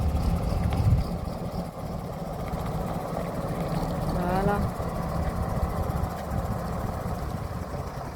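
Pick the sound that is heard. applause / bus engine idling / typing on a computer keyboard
bus engine idling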